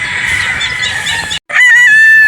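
Gamefowl chickens at a game farm in Batangas call loudly up close, a harsh squawk followed by a brief silence and then a sustained rooster-like crow.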